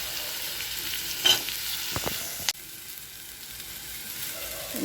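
Poppy seeds sizzle and fry in oil in a pan for a Tamil ennai kathirikai kuzhambu, with a steady close hiss broken by a few sharp scrapes and clinks of a spoon stirring.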